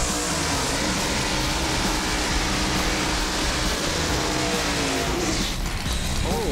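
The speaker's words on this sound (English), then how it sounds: "Let's watch this combo burnout." Turbocharged VW Bug drag racing cars doing a burnout, a loud continuous roar of engines and spinning tires filling the whole stretch without a break.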